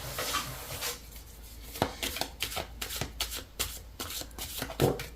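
Tarot cards are shuffled by hand, a run of soft riffling and slapping bursts in an irregular rhythm, close and moderately loud with no voices.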